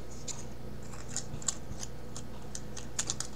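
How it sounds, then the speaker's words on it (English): Scissors snip through glitter cardstock pieces for a greeting card, giving a series of small sharp clicks and crisp cuts at an uneven rhythm, close and fairly quiet with no talking. "I'm just going to cut it in half."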